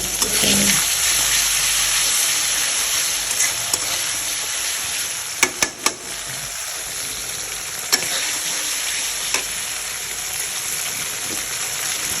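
Hilsa fish curry with spices sizzles steadily in a pan, a dense, even hiss running throughout, broken by a few sharp clinks of a utensil near the middle, with no talking.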